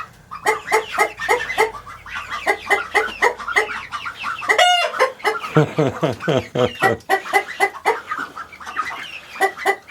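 Chickens cluck steadily in a loud, busy chorus in a new coop on a homestead, with one bird letting out a brief drawn-out call midway; faint human sounds linger underneath.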